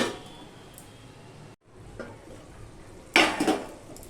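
A lid set over a pot of simmering moong dal, a faint rustling bed, then a short clattering knock of metal as the cover lands near the end, close and brief, no talking.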